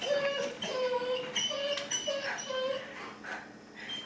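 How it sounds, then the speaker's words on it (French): Banjo, a pet dog, whimpers and cries in a series of thin, high whines, each rising briefly and repeating every half second or so over a steady indoor background hum. "Tu fais pitié, Banjo, quand tu pleures comme ça"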